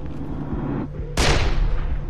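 A single loud gunshot cracks out suddenly in the Far Cry 3 video game after a low, rumbling background, then leaves a sustained noisy echo. No one speaks over it.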